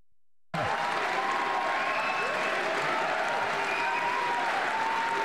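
A crowd bursts into loud, sustained applause after a message from Philippine President Bongbong Marcos, starting abruptly from silence and holding a dense, even roar throughout.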